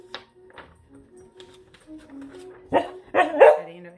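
A puppy barks in short sharp yips, scattered and faint at first, then three louder close barks near the end, with no talking.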